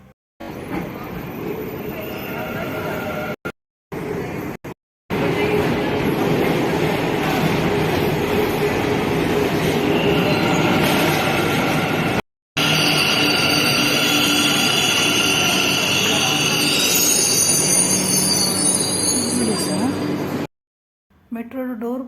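An underground metro train running through a tunnel, heard from inside as a loud, continuous roaring rumble with screeching high tones building toward the end, broken by brief cuts, with voices faintly present.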